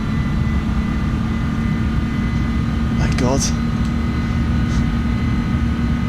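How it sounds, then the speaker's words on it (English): Airbus A310 jet engines in Microsoft Flight Simulator give a loud, constant low roar and whine throughout, with a man's brief exclamation over it. "Oh, listen to those engines."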